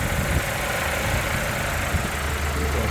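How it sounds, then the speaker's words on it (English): A 2019 MG MG3 with a small four-cylinder engine idling: a steady, even mechanical hum and rumble with no revving, heard close and continuous under the open bonnet. "A little 4-cylinder motor with the battery at the back there."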